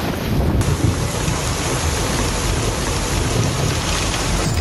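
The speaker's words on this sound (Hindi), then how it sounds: "जिस मकान में कभी हंसी खुशी की गूंज थी, वहां अब सिर्फ पानी का शोर है।" Rushing floodwater of the Ganges at a Varanasi ghat, a loud, dense, continuous roar of churning water with heavy noise-like texture and no voices.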